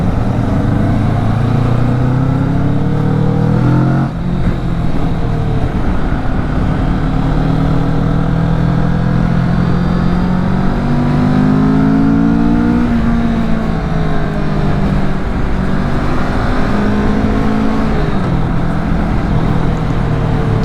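A 2024 Kawasaki Vulcan S motorcycle accelerating through the gears, its engine rising and dropping in pitch with each shift, loud, steady and close throughout.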